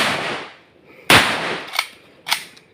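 Two or three sharp gunshot cracks ring out outdoors near trees, the first loud and close, followed by two quicker, fainter reports about half a second apart, with a softer rustling blast fading at the start.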